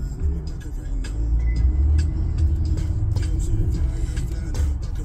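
Car engine rumbling steadily up close while driving slowly through a parking area near the Golden Gate Bridge in San Francisco, with faint voices and a distant bus air brake mixed in.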